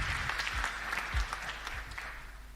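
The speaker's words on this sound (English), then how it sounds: "Let's give him a round of applause." Steady applause from an audience at a live event, a faint, even patter of clapping with a few louder claps standing out.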